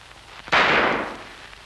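A single gunshot from a 1952 Brazilian comedy film, one sharp close bang that fades over about a second against a quiet background.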